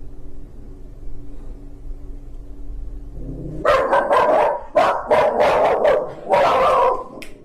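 A dog barks loudly and close in a rapid burst of repeated barks and yips that breaks out after a quiet stretch.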